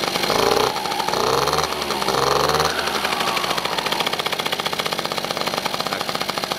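Italjet scooter engine running with its cover off, a loud rough two-stroke buzz that rises and falls with revving, then settles into a steady rapid pulsing idle.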